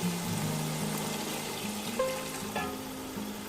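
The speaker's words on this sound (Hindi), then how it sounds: "अब यहाँ पर मैं इसमें 1 गिलास पानी है वो ऐड करूँगी" Water poured from a glass into sautéed peas and spices for peas pulao, a soft steady splash and trickle running over a low background tone, close and moderately loud.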